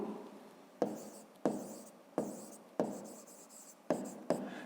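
Pen writing by hand while working a fifth-grade math exercise, a close, quiet scratching in short strokes, each starting with a sharp tap and fading, repeated about six times at an uneven pace.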